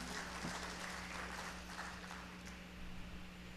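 Steady audience applause at a public directors' panel, continuous clapping welcoming a panelist, heard at moderate distance and fairly quiet, with no speech over it.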